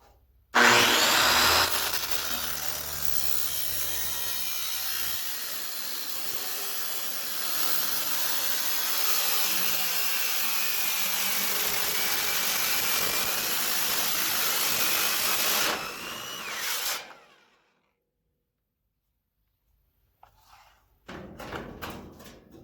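A power saw cuts scrap steel for a snowblower belly pan, giving a loud, harsh, continuous grinding whine for about fifteen seconds. It then cuts out to silence before a few short clattering knocks.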